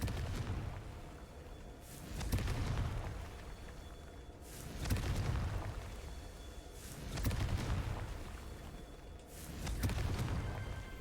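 Confringo fire spell blasting stone statues in Hogwarts Legacy, four deep booming explosions spaced a few seconds apart, each swelling and fading with rumbling debris.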